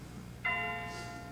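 Bell struck once in a film scene, a single clear ringing tone that sounds suddenly and then decays slowly over a quiet background.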